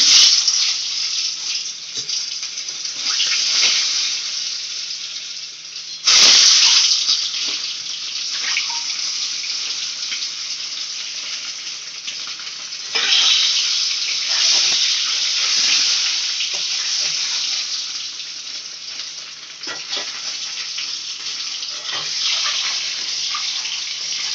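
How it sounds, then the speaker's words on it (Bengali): Eggs fry in hot oil in a pan, giving a loud, continuous close-up sizzle with occasional sharper crackling flares. "এবার ডিমগুলো ভাজবে"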